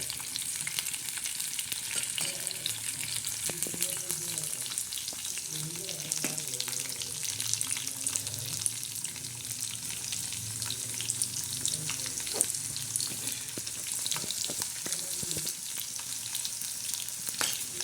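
Curry leaves and garlic sizzle and crackle in hot oil in a home kitchen pan, with a steady close frying hiss and occasional stirring scrapes throughout.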